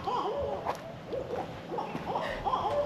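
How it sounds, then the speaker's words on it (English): Owls hooting at The Ledges in Cuyahoga Valley, a series of soft, rhythmic hoots repeating every half second or so, fairly close but quiet in a still outdoor setting. "So you can see owls here, and we can definitely hear them talking to each other."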